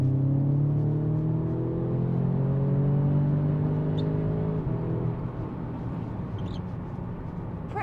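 Audi S3 hatchback accelerating hard in sport mode on a soaking wet road, its engine note climbing steadily in pitch, then dropping at a gear change before rising again, with a continuous rumble and road noise throughout.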